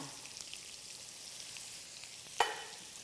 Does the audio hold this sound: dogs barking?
no